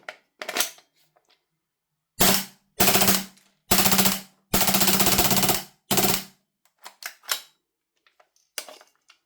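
An airsoft gun fires on full auto in several loud, separate bursts of rapid rattling shots, separated by silent gaps and a few scattered clicks.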